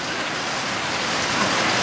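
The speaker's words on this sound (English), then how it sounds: "It hasn't stopped raining, guys" Rain falling outdoors by a yard with ducks and geese, a soft steady wash of drops that continues evenly through the short stretch without any talk.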